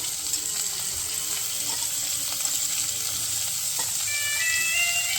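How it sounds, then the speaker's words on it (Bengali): Pointed gourd (potol) slices half-fried in a pan, giving a steady, close hiss of oil with soft crackles and a few light clinks, with no talking. "পটলটা অর্ধেক ভাজা হয়ে গেছে, এবার আমি পেঁয়াজ নিয়েছি দুটো, ওই পেঁয়াজটা দিয়ে দেবো।"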